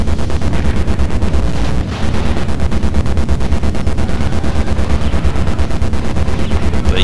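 Rapid, relentless gunfire from a tank in the 1988 Taito arcade game The Ninja Warriors, loud synthesized bursts repeating in a fast machine-gun rhythm for several seconds, with a brief pause near the start.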